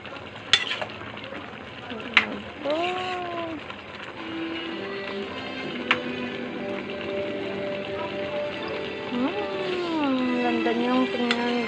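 Sweetened jackfruit with its seeds being stirred in a pan, soft scraping and gentle sizzling running steadily under intermittent talking.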